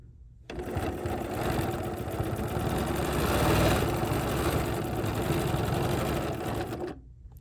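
A BERNINA 990 sewing machine quilting a watermelon mat quilt top, running in one continuous fast whirring stitch burst of about six seconds, close and steady, with silence before and after.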